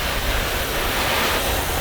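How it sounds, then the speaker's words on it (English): Water sprays from a car undercarriage cleaner used to rinse winter road salt, making a loud, steady broadband hiss that continues without a break. "The first notch just turns the water on."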